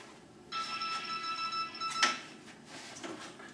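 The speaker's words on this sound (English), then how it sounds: "That's a text on my phone" A short electronic text-message alert chimes from a nearby phone, a steady multi-tone beep lasting about a second and a half, followed by a brief clack and quiet room noise.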